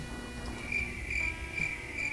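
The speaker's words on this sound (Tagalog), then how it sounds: "Maraming kuliglig ako narinig" Crickets beside a roadside chirp in repeated high, thin pulsing trills at regular intervals, fairly close, over a low steady background rumble.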